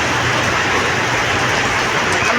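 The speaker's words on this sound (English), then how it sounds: "It's been raining." Steady, dense rain of the rainy season pours continuously, a loud broadband hiss that fills the whole stretch without pause and with no voices.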